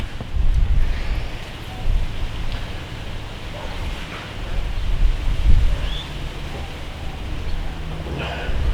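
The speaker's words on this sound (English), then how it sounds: "now the wind's starting to come up" Gusty outdoor wind rumbles and buffets a microphone on a bright day, rising and falling in broad swells with faint rustling behind it.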